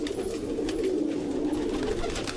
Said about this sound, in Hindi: ये कबूतर है आपके भाई के